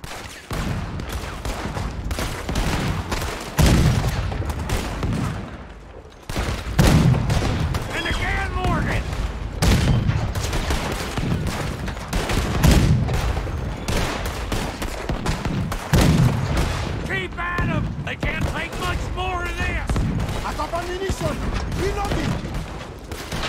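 Cannon shots fired at a boat in the video game Red Dead Redemption 2 boom repeatedly amid dense battle noise, loud, heavy blasts recurring every few seconds throughout, with voices in between.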